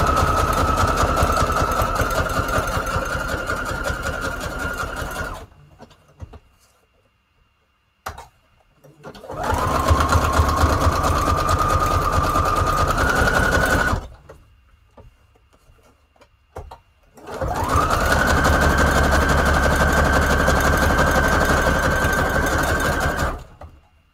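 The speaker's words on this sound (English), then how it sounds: "So we're going to zigzag stitch around." A sewing machine zigzag stitches around junk journal tags in three long, loud, steady runs of about five seconds each, with a rising motor whine and quiet gaps between runs.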